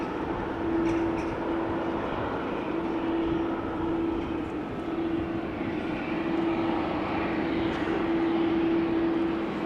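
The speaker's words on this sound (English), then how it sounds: "Air Europa with the 737 today, not with a Dreamliner." Air Europa Boeing 737 jet at Amsterdam Schiphol on a rainy day, its engines giving a steady, loud roar with a sustained tonal hum, continuous throughout without voices.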